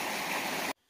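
A small mountain stream on the Appalachian Trail near Gooch Shelter in Georgia rushes in a steady, fairly loud wash that cuts off abruptly just before the end.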